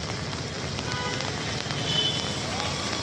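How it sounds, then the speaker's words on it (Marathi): Heavy monsoon rain pours down in Kalyan after dark, a dense, steady hiss of drops hitting the ground and surfaces close by, with faint traffic-like rumble underneath. "फार जरा जास्तच पाऊस चालू आहे आज कल्याणला"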